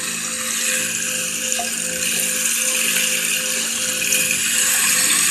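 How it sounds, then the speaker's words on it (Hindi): Steady flowing water from a fountain, a continuous even rush with a faint tonal hum beneath, constant and close throughout. "फील करें उसके बहते हुए पानी को।"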